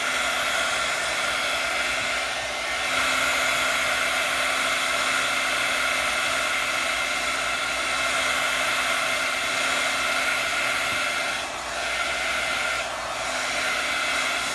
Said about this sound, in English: So I'm just going to take my heat tool,